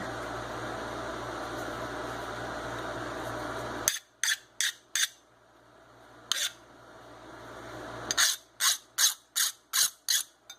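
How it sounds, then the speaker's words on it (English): A steel file grinds steadily against a handmade knife blade, then gives way to a series of sharp, spaced rasping strokes and clicks while deburring, close and fairly loud. "I always hit the file, deburr this thing a bit."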